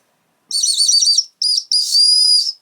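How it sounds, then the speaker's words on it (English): A shrill, warbling whistle on the back of a multitool is blown three times close by, the first blast long and trilling, then a short one and a longer steady one. "On the back of it, you've actually got a little whistle."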